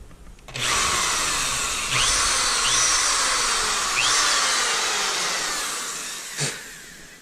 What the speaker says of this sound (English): right, we got all 4 holes drilled